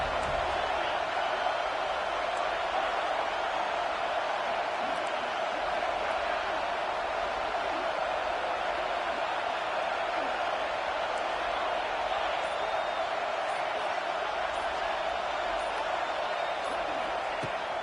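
A packed stadium crowd at a Clemson vs FSU college football game roars on a fourth down, a loud, sustained wall of noise that holds steady throughout.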